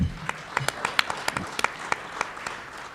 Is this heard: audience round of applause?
yes